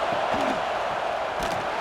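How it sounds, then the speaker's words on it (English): Roaring college football stadium crowd in a video game, a steady dense wash of distant cheering and rumble with a brief swell near the end. "wow, listen to this crowd noise. This stadium is vibrating."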